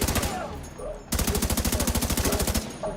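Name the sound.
gunfire in video game The Division 2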